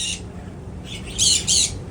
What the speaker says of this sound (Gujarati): અહીંયા કાબરો જુઓ